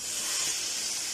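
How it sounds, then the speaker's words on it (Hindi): Hot tadka of green tempering poured into cooked dal for dhaba-style daal chawal, giving a steady close hiss and sizzle that holds evenly throughout without talk. "अब यहाँ हम ये तड़का जो है वो सारी दाल के अंदर"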